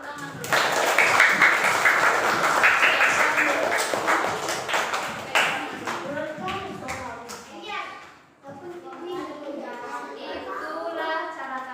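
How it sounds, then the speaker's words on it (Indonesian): An audience, including children, claps in a burst of applause that swells then tapers off, followed by overlapping children's voices and chatter. "Berikan tepuk tangan dulu."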